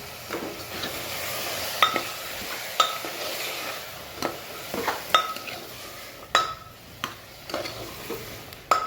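Samosa masala filling being stirred in a pan, with a spoon scraping and clinking against the metal in irregular taps over a soft background hiss, close and moderately loud, with no talking.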